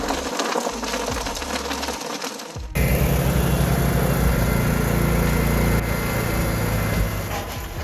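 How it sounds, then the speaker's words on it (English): An industrial shredder grinds discarded floorboards, a loud continuous mechanical roar that deepens and intensifies partway through, with dense crunching and rattling and no speech. "within seconds the boards snap with thunderous cracks"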